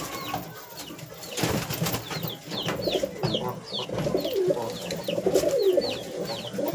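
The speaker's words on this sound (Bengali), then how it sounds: "এইটা বনো পায়রা, এর চোখটা দেখুন পুরো লাল" Wild pigeon with red eyes cooing in repeated soft calls over a noisy outdoor background, with other small bird chirps scattered through and no talking.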